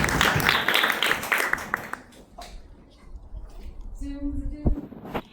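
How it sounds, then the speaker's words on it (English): Brief audience applause for a children's performance, a couple of seconds of clapping that quickly fades into quieter room sounds. "let's go ahead and give a round of applause for our kiddos"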